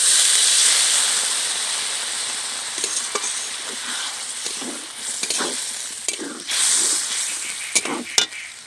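Parshe fish curry with eggplant and potato hisses and sizzles loudly in a pan while water is added to the spices, then the sizzle fades and flares again with stirring scrapes.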